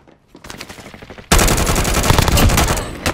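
Gunfire erupts after a quieter start: sparse shots at first, then a loud, sustained burst of rapid automatic fire that continues close and dense to the end.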